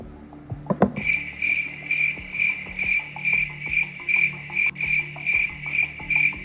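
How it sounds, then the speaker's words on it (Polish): Crickets chirp steadily in regular pulsing bursts, close and fairly loud, with a brief knock near the start and no talking. "Świerszczyki puśćcie."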